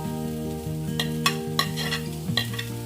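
Chilies and carrot stir-fry in a pan for veg strips, a steady sizzle with a few sharp spatula scrapes over a low background hum.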